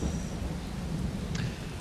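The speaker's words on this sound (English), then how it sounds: "I saw the rain coming" Rain and thunder in the Farming Simulator 22 video game, a dense, steady hiss of rainfall over a low rolling rumble of thunder, continuous and close, with no talk.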